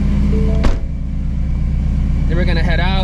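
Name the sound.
supercharged Shelby GT350 Mustang engine warming up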